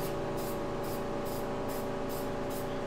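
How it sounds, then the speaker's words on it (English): A spray gun applies epoxy paint to an appliance in a series of regular hissing bursts, about two per second, over the steady drone of a loud ventilation fan. "I'll turn it off as soon as he's done spray painting."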